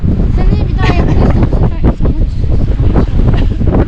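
Strong wind roars across an exposed mountainside on Ağrı's Köse Dağı during a storm, a loud continuous buffeting rush against the microphone with people talking over it.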